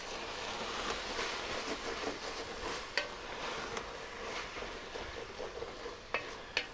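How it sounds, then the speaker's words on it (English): A pot of pasta moussaka sauce being stirred, giving soft, continuous scraping and swishing with a low bubbling sizzle and a few sharper clinks of the spoon against the pot. "you get us one more stir"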